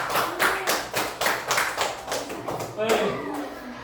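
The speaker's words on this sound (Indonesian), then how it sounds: "beri tepuk tangan untuk kelompok saya." A small group claps together during a training session after finishing a water-boiling task, fast, fairly even hand claps for under three seconds, then voices continue.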